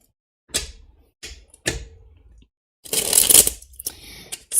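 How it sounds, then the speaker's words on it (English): A tarot card deck is shuffled in short bursts: a few separate riffles, then a longer, louder flurry of cards, recorded close with quiet gaps between. "That was a nice shuffle."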